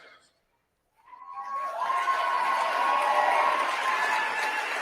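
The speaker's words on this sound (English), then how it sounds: "Nervous applause." After a brief hush, a crowd at a Turning Point USA speech breaks into hesitant, nervous applause that swells quickly into a sustained wash of clapping and murmuring and stays steady to the end.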